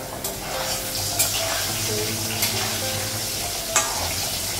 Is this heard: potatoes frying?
yes